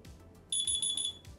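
Smartwatch find-my-phone alert ringing on the phone, a bright electronic beeping tone pulsing in quick repeated bursts for about a second, near and clear over quiet background.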